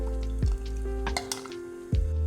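Bisi bele bath made from a ready mix with millet, boiling in a pot, giving a steady sizzling bubble with a few metallic pot and utensil clinks, close and fairly loud, no voices.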